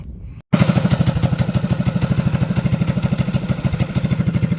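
A Predator 212cc small gasoline engine starts after a brief pause and runs loudly up close, chugging in a fast steady rhythmic putter with metallic clatter.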